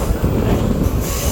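Passenger train rolling into Madurai East railway station on the Madurai to Rameshwaram line, a loud, steady rumble of wheels and railcars with faint squeal and clatter, cutting off abruptly near the end.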